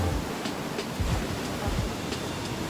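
Surf rolling in at Karmakandara white sand beach below a resort, a steady broadband wash with soft breaking swells, faint voices mixed in.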